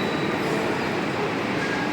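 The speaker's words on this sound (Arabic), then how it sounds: "المحطه الوحيده اللي فيها المترو هنايا في سانتياغو" Steady underground rumble and rolling rail noise of a metro train at a subway station in Santiago, Chile, a continuous dense roar with no talk.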